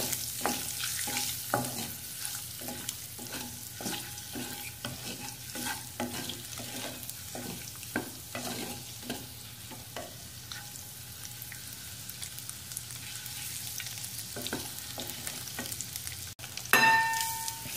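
Eggs fry in a pan with chili powder, turmeric and salt. The oil sizzles steadily while a spatula stirs and scrapes in a repeated rhythm, closing with a louder clatter.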